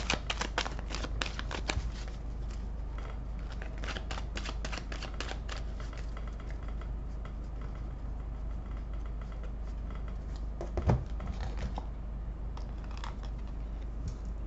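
Tarot cards shuffled by hand during a reading, a steady rustle of quick riffling flicks near the microphone with a brief louder snap partway through, over a constant low hum and no talking.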